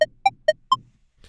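Short plucky synth lead patch recreating a melody, four staccato bright blips in a quick even rhythm with a slight rise on the last, then a faint trailing rustle.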